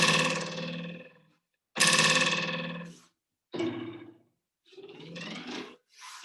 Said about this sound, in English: All right, so a vibrating meter stick can do this.